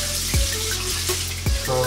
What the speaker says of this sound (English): throw the hair right under the tap